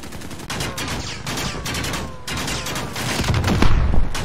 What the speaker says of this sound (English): this is a juggernaut shooting me across the map